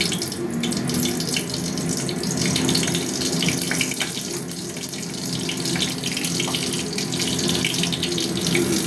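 Dried red chillies hit hot oil, giving a soft, steady, hissing sizzle that runs continuously at low volume with faint crackles throughout.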